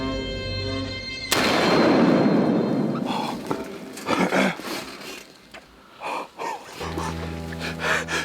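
A single loud rifle gunshot on a whitetail deer hunt on frozen ground in Saskatchewan, a sharp blast followed by a long fading echo, with scattered movement and faint sounds afterward.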